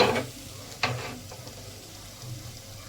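Prawns drop into a hot pan for a prawn curry and sizzle, with a sharp burst at the start, a second splash-like hiss a moment later, then quieter frying.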